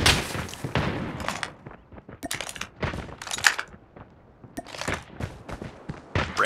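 Gunfire in Call of Duty Mobile during a snipers-only clan match with the Arctic .50 rifle: a series of sharp separate shots and impacts at irregular intervals, near and fairly loud, with brief quiet gaps between.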